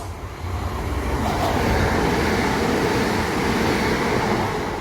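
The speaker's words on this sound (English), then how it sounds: "the next train to pass by will be a Southeastern 375" A Southeastern class 375 electric train passes at Grove Park or Elmstead Woods, a steady broadband rumble and rail roar that swells over the first half-second and then holds loud and close, with no talking.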